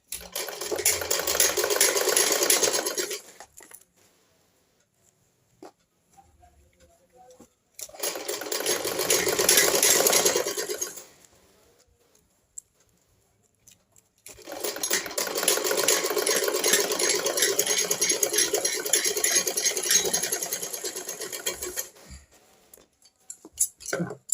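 Sewing machine stitching the lining of a blouse, running in three bursts of steady whirring with short pauses between, close and fairly loud, no talking.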